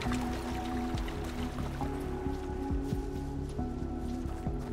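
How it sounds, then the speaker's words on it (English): Running, dripping water in the video game Dungeons of Hinterberg, a gurgling trickle with wet drips and squishy splashes, steady and close with no talking. "I'm pretty certain that that changed the tone of the water."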